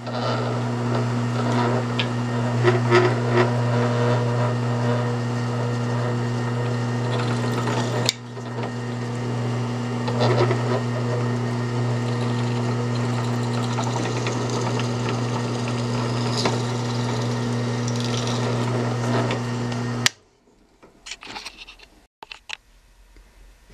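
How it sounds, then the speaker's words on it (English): A power drill bores holes through a steel knife tang and into the wood scales, a steady continuous whir with two strong low hum bands running about twenty seconds before cutting off abruptly, leaving faint clicks. "the next step is to drill the holes through the tang, through the holes that we've already drilled there, and into the wood"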